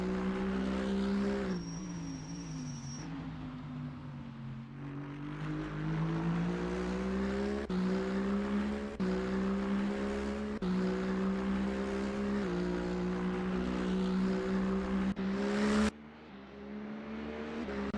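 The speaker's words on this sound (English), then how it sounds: "Jacobus Besson is driving through turn 10." A GT race truck's engine in a sim racing game drones loud and steady at part throttle, its pitch rising and falling through gear changes and corners on an out lap. No one speaks over it.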